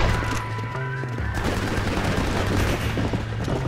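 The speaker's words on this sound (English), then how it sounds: "I hear a Gatling." A Gatling gun rattles in Red Dead Redemption's Wild West setting, a dense continuous burst of rapid gunfire held at steady loudness for a few seconds, with no talking.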